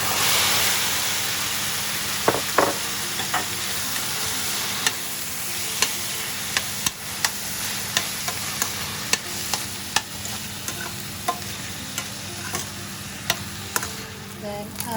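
Beef stir-fried in a hot pan with garlic and chili sauce for ampalaya con carne; a loud, continuous sizzle runs throughout, punctuated by regular sharp clicks and scrapes of the spatula against the pan, with no voices.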